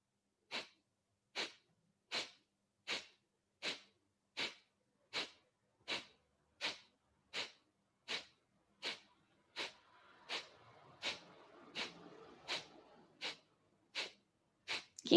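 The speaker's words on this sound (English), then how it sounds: "Your Kapalabhati could be faster, it could be slower." Kapalabhati breathing, about twenty sharp, forceful nasal exhales in a steady rhythm roughly 0.75 seconds apart, close and clear, with a brief soft rustle midway.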